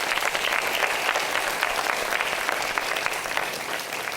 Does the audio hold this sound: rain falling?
no